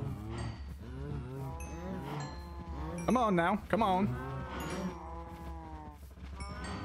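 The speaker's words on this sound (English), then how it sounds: "I think I have enough cows" Cows mooing in the Minecraft video game, several bovine calls rising and falling through the clip, the loudest burst near the middle, with someone talking over them.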